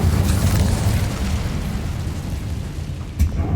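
A fire spell blast in Hogwarts Legacy, a loud, sustained roaring burst of flame that rumbles steadily for a few seconds, with a sharp pop near the end.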